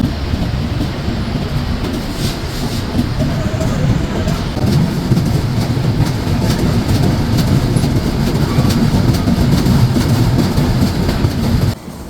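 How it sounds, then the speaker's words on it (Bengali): Nilsagar Express intercity train running between Dhaka and Chilahati, heard from on board as a loud, constant rumble of wheels and carriage noise with faint rhythmic clatter, dropping slightly at the very end. "ঢাকা থেকে চিলাহাটির মধ্যে চলাচলকারী আন্তনগর নীলসাগর এক্সপ্রেস"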